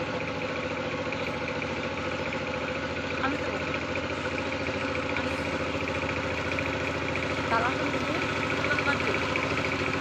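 Steady single-cylinder power tiller engine chugging at a constant pitch throughout, moderately loud with a regular mechanical throb; faint voices are audible in the background.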